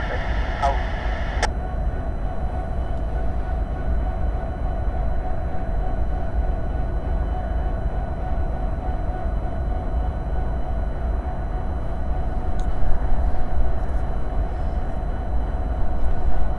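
Norfolk Southern NS171 freight train idling in Debutts Yard, Chattanooga, a steady low rumble with a faint hum throughout, a brief tone at the start and a slight swell in the last few seconds.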